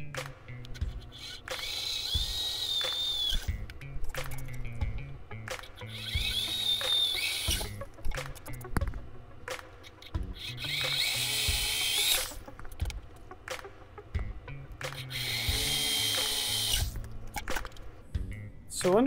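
Cordless power drill with a quarter-inch bit boring holes for blind nuts in a model airplane firewall, several bursts of whining motor spin separated by pauses, close and fairly loud, with someone talking between and over them.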